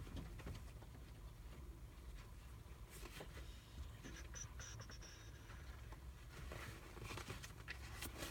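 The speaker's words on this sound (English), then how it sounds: "It's beautiful rain here in Los Feliz." Steady rain patters outdoors in Los Feliz, a soft continuous hiss and faint spatter that runs on its own at low level, with a few sharper drips and knocks mixed in.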